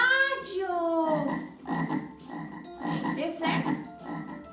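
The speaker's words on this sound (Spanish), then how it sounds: "Es una rana." Frog croaking in a repeated rhythm of loud, close bursts, played as a sound-identification example for children.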